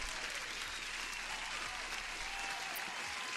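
Steady recorded applause effect played over a trading livestream, a dense even patter of many hands clapping without a break, moderately loud and alone with no talk.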